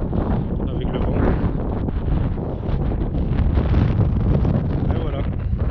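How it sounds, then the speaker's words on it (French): Strong wind buffeting a microphone outdoors on a volcanic trail in Fuerteventura, a constant low roaring rumble that dominates throughout, with a voice partly buried beneath it. "Je sais pas si vous allez m'entendre avec le bruit, avec le vent."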